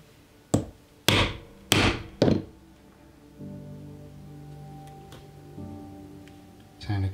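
Four sharp, loud hammer strikes ring out on a 2-prong leather chisel punching a leather slim wallet, close and evenly spaced, followed by a low hum and a final knock.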